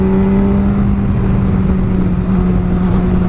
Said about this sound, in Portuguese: Caraca, a moto tá perdendo até a força